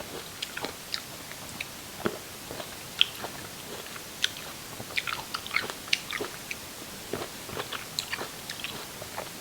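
Grapes are chewed and eaten close to the microphone, with repeated soft, wet crunching bites and mastication spread steadily over several seconds.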